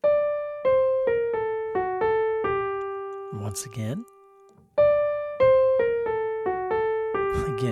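A jazz melodic line in classic bebop vocabulary, played in time as clean single notes that step downward, pauses briefly amid a short noisy interruption, then repeats. A voice speaks briefly over the line.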